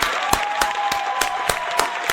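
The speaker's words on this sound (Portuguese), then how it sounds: "Uma salva de palmas pra ele!" Audience applause marked by sharp, regular claps about three times a second, like a crowd clapping in rhythm, over a soft wash of crowd noise and a steady faint tone.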